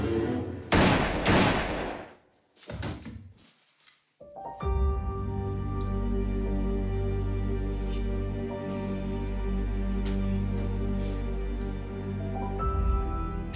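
Loud, close gunshots ring out in a staged crime reenactment, with sharp blasts early on, then a brief quiet gap before a sustained tonal swell of dramatic music takes over.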